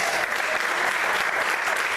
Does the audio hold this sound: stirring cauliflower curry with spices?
no